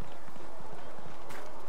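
Horse hooves clip-clop at a steady walking rhythm in Dragon Age Inquisition, close and fairly loud over an ambient outdoor background.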